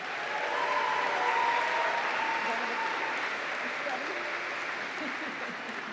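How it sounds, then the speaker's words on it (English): A large commencement crowd applauds graduating environmental science seniors at the ESF Fall 2023 ceremony, a dense and steady wash of clapping that holds at full strength for the whole stretch before easing slightly near the end. "Let us applaud and congratulate the graduating seniors of environmental science."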